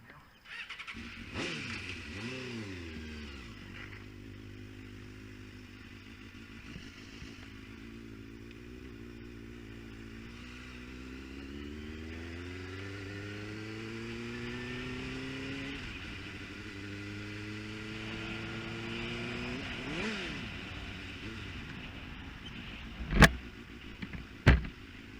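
A motorcycle starts up nearby and idles, then revs again and again with rising and falling engine pitch, and sharp clatters come near the end.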